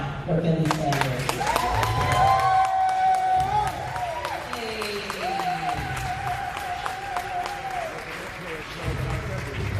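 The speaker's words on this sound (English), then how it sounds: "I need to start clapping right now for Billy Sanders." Audience applause and cheering at a gathering fill the whole stretch, steady and fairly loud, with voices and whoops over it and a speaker's voice talking through part of it.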